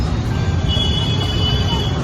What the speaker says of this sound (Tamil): பாருங்க, ஒரே டிராஃபிக்.